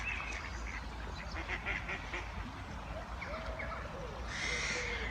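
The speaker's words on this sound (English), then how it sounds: "Stupid ducks." Ducks, including Mandarins, at a duck park give faint honking and quacking calls over a constant outdoor rumble, with one louder call near the end.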